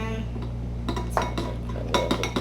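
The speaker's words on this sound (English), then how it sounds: "So mixing, just keep mixing." A utensil clinks and scrapes against a bowl while fluffy slime is stirred with food dye, giving irregular knocks and taps over a steady low hum.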